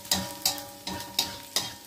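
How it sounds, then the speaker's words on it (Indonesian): Mushrooms stir-fried in a pan give five evenly spaced spatula scrapes and tosses over a soft sizzle, close and fairly quiet. "dimasukkan jamurnya. Tumis jamur ini masakan yang simpel sekali ya."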